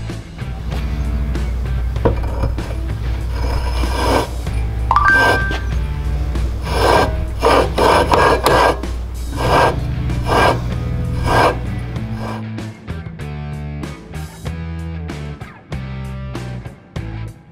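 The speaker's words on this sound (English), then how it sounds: "Use valve grinding compound on the crankshaft and spin the flywheel to mate the two surfaces." Flywheel spun by hand against a small Predator 212 crankshaft coated with valve grinding compound, producing continuous gritty rasping and rubbing strokes that come close and loud.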